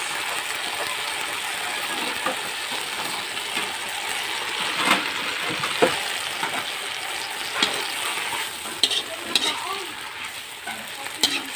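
Fish sauce hits a hot frying pan with a steady, close sizzle and frying hiss, scattered with clicks and scraping stir sounds throughout, and no voices.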